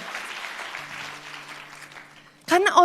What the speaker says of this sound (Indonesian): Kalau mau tepuk tangan yang paling dahsyat buat Yesus Tuhan kita.